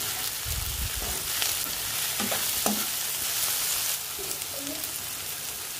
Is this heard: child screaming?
no